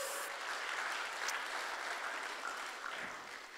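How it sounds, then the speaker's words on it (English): Faint, steady applause from a church congregation thanking a group of children, soft continuous clapping heard at a distance with no talk over it. "let's give the round of applause."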